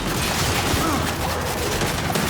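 Turret gunfire in the Gears 5 video game, a dense continuous barrage of rapid shots and booms that fills the scene at high volume, with faint voices buried beneath.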